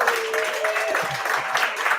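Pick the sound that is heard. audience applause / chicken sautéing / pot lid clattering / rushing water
audience applause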